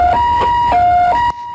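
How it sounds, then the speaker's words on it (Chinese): An ambulance races toward a crash scene on Taiwan's Provincial Highway 76 expressway, its siren wailing in a loud, clear two-tone pattern that alternates high and low pitches before cutting off abruptly. "救护车火速赶来"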